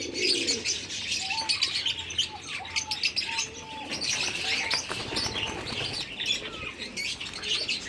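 Pigeons coo among chirping birds in a steady outdoor chorus, with soft wing flutters and continuous background noise throughout.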